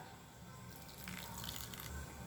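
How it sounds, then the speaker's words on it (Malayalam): Half a cup of water is poured into a mixer jar holding coconut while preparing Kerala-style olan. The pour is a soft, quiet, continuous trickle close by, heard alone. "1/2 കപ്പ് വെള്ളം ഒഴിച്ചു കൊടുക്കാം"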